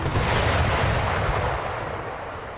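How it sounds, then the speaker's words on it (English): Howitzer artillery fire in a Civil War strategy game: a heavy, rumbling cannon blast that fills the clip and slowly fades, with no talking. "Pretty sure those were howitzers."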